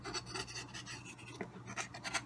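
A small spatula scrapes sticky three-ingredient shortbread cookie dough off a countertop in a few faint, short rasping strokes, quiet and close, with no talk.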